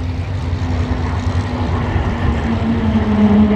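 A warbird aircraft rated for +8 and -4 G manoeuvres flies at an airshow, its engine a loud, steady droning roar with a faint rising tone over the few seconds.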